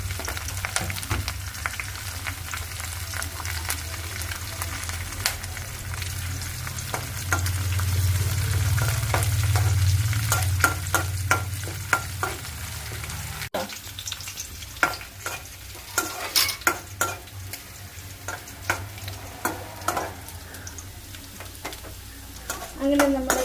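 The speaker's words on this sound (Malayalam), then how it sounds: "അങ്ങനെ നമ്മുടെ കടുക് വറുത്തത് ശരിയായി കഴിഞ്ഞു." Mustard seeds, dried red chillies and curry leaves crackle and sizzle in hot oil for a fish curry tempering, with a steady frying hiss and sharp pops, stirring scrapes and a few louder spattering bursts toward the end.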